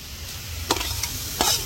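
Kabuli chickpeas hit a hot pan with five-spice seeds and fry with a steady sizzle, two sharp stirring scrapes cutting through the hiss up close.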